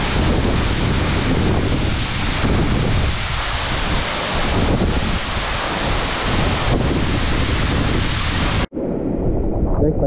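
Water rushes heavily at Aagaya Gangai waterfall, a loud, continuous roar mixed with wind buffeting the microphone, steady for the whole stretch before a brief cut near the end.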